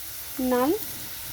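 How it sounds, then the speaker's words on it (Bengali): Potato pieces fry in oil in a pan, a steady soft sizzling hiss running throughout with a brief squealing tone rising near the middle. "আলুটা এমনভাবে ভাজতে হবে যেন আলুটা সিদ্ধ হয়ে যায়"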